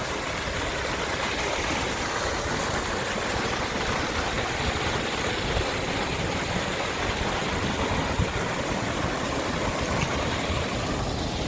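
A waterfall pours at the Lago Martianez swimming pool complex in Puerto de la Cruz, Tenerife, a dense, steady roar of rushing water that stays constant and fairly close, with no voices heard.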